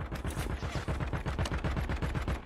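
Rapid automatic gunfire from the video game Call of Duty, a loud, steady stream of closely spaced shots lasting the whole moment with no talking.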